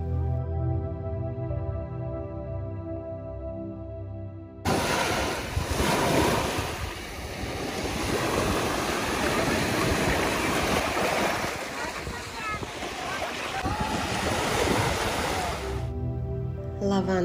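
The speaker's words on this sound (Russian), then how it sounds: "А это ближайший пляж к нашему дому, он тихий, такой спокойный" Surf washes onto a quiet beach in Ravda, Bulgaria, a steady, loud rush of breaking waves with some wind noise on the microphone, starting abruptly after a few seconds of music and fading back out near the end.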